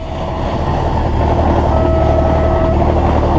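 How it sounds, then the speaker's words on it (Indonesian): A train speeds past close by as a steady, loud rolling rumble that swells slightly, with a faint sustained tone partway through and no talk. "Ah, itu keretanya tuh."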